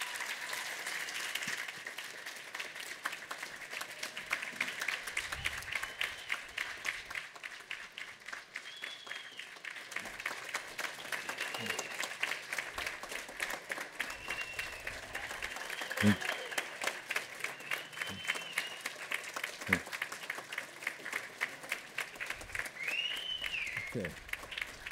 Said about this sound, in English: Would you all join me in applauding the graduates?